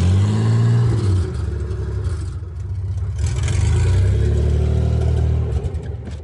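Chevrolet Opala with an automatic gearbox, crashed at the front and missing its radiator, revs loudly and close by, its engine note rising and falling in a steady mechanical roar with some clatter.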